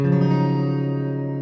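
A single sustained chord plucked on an acoustic guitar rings out clearly and slowly decays, its notes blending into a warm, steady tone.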